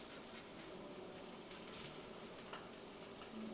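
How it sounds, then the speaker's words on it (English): Brunch food fries in a hot pan with a steady, close, continuous sizzle and crackle, with no voices. "Do you hear that sizzle?"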